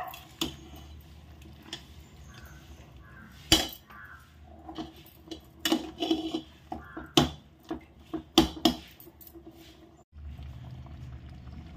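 A spoon scrapes and clanks against a metal pot as chicken khichdi is stirred, with sharp irregular knocks and a wet, soft mixing sound between them; the scraping stops briefly, then a quieter simmer resumes.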